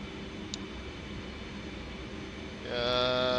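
An F/A-18 jet in a flight simulator hums with a steady engine drone and air rush, then a sharp, louder whining tone with layered harmonics kicks in near the end as the climb continues.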